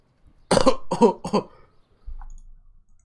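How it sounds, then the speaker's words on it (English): Three harsh, close coughs in quick succession from a video game character, then a quieter ragged gasp for breath. "That's coughing."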